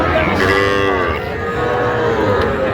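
Cattle at a Chandpur calf market where small bull calves are sold let out a loud, sustained moo with a rich, droning tone that fills the whole stretch, close by and steady.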